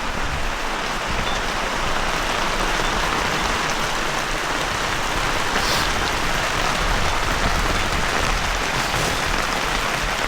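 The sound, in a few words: heavy rain pouring on a camping tent in a storm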